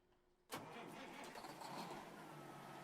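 A Peterbilt truck's 515-horsepower Detroit Diesel Series 60 engine in American Truck Simulator cranks and fires abruptly, then settles into a loud, steady rumbling idle.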